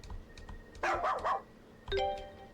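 Dog barking in the video game Ys Celceta, two sharp, close barks separated by a pause, standing out over low game background sounds and a soft chiming tone.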